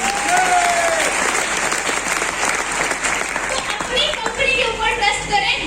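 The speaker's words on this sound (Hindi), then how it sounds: "एक बार जोरदार तालियां दीजिए।" Loud, dense applause from a seminar audience at a youth training event, steady clapping filling the whole stretch with a few cheers and whistles riding on top near the end.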